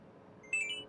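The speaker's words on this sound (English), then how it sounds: "Sorry for the beeping." Short electronic beeping tones from an alarm cut in halfway through, fairly close and clear over a low steady background hum.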